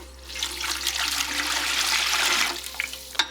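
Hot water gushing steadily into a mixing bowl while making cinnamon roll dough, a loud continuous splashing pour lasting about two and a half seconds before tapering off, heard alone without talk.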